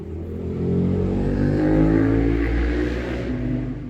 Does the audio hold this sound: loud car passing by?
yes